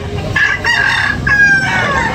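A red, yellow-legged rooster at a chicken market crows loudly and close, a long drawn-out call repeated over steady background noise.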